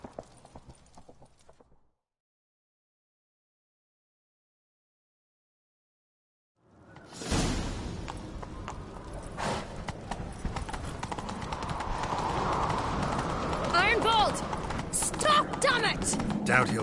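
Hoofbeats of a horse galloping in The Witcher 3, a fast rhythmic clip-clop that starts abruptly after a brief silence and holds steady and loud beneath game ambience, with a short stretch of voices at the very beginning.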